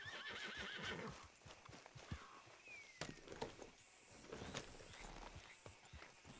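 A horse whinnies and snorts with clip-clopping hooves and scattered clatter, fairly close, in a busy Red Dead Redemption 2 game soundscape.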